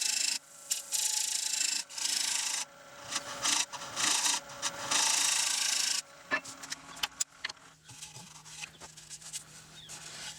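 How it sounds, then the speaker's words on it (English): Scraping tool working the thin wall of a roughed, cracking wooden bowl right at a knot, heard as close, loud raspy strokes in bursts, then quieter intermittent scrapes and small knocks toward the end. "where I'm scraping is right where the knot is"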